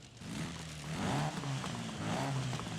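A stock Mini engine revving in Forza Horizon 5, a steady buzzy drone that rises and falls in pitch over a few seconds at moderate loudness.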